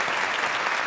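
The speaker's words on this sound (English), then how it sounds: "Clap." Audience applause at an evening political event, a steady dense wash of many hands clapping that fills the short moment with no voices on top.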